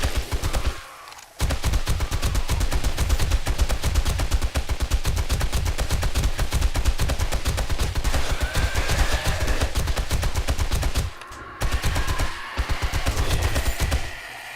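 Dense, loud automatic gunfire in the 7 Days to Die Darkness Falls mod, zombie horde night, rapid bursts running almost continuously with two brief pauses.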